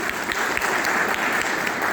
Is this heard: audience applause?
yes